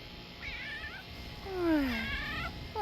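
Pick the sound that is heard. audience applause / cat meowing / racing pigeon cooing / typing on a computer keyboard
cat meowing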